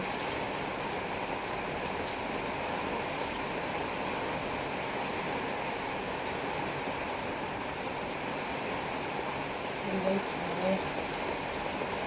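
Heavy rain falls on a village in a dense, steady hiss that stays even throughout, with faint voices appearing briefly near the end.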